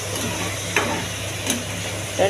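Mint and curry leaves sautéing for tomato chutney make a brief, steady sizzling hiss in a pan, with a few faint scrapes of stirring, heard up close.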